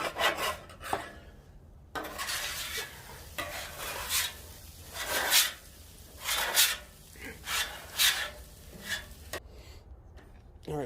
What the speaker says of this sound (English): I just got to scrub this thing